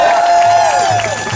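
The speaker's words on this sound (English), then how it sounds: "y'all give a round of applause for them" A crowd at a 2016 Black Lives Matter rally in Atlanta cheers loudly, with a sustained falling whoop or whistle riding over the steady crowd noise for a little over a second.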